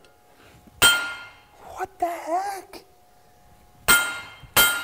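Hot Inconel is worked by hand with a hammer on an anvil, giving three loud, sharp metallic ringing strikes spaced seconds apart, while someone speaks briefly between the blows.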